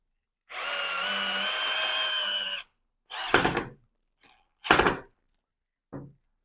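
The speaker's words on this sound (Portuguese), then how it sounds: "Aí vem aqui com a parafusadeira." A cordless screwdriver drives screws into a ping-pong table. A two-second whir comes first, followed by several short bursts and wooden knocks, close and loud, with gaps of silence between them.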